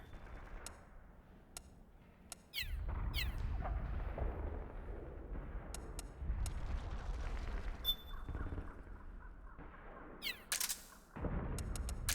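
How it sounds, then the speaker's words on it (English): Cannon fire in the video game Metal Gear Solid 4: Guns of the Patriots, heavy booming blasts repeating every few seconds with sharp cracks and rumbling tails, loud and close amid battlefield noise. "Cannon."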